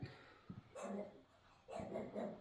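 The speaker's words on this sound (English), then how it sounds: "Guard dog's going on." Guard dog barking in short bursts near a 1984 Jeep Grand Wagoneer under repair, two or three harsh, fairly close barks with brief pauses and faint breathing between them.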